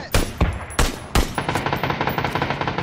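Gunfire in a PUBG-style battle royale shooter: several loud, sharp single shots early on, then a rapid automatic burst of evenly spaced rounds running to the end.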